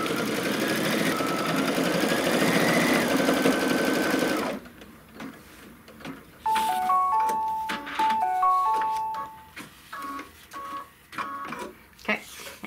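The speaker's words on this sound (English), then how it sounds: "what it's going to stitch now is that first little tack down on one side of the opening" An embroidery machine stitches a tack-down on a belt bag, a rapid mechanical chatter in short runs broken by pauses and shifting tones, heard close after a voice speaking at the start.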